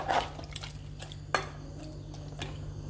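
A spoon scrapes and clinks against a pot while stirring jackfruit and coconut curry, with a few distinct metallic knocks over a low steady hum, close and fairly quiet.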